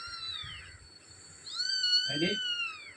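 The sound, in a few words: kitten meowing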